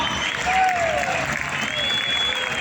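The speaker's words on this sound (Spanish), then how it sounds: "ahora los pilotos aplauden a la afición" Applause from MotoGP riders directed at the fans during a welcome ceremony for the Valencia 2022 Grand Prix, a steady wash of clapping with whistles and crowd voices mixed in, moderately loud throughout.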